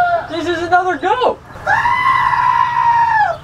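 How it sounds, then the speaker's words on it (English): Goat bleating plays from a TV show, a near, loud, wavering cry that breaks off, followed by a second long, steady bleat. No speech is heard. "Steven is getting off to the goat noises"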